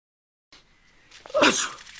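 A person gives one close sneeze after a soft intake of breath, short and forceful against an otherwise quiet background.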